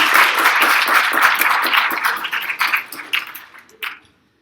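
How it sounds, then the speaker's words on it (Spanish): Applause for the jury at a history conference in a hall, a dense burst of clapping that thins into scattered claps and stops abruptly near the end. "Un aplauso para ellos"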